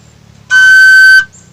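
A Sundanese bamboo suling flute mimics a car horn with one steady, loud, sustained tone lasting under a second, clear and close, with quiet background before and after.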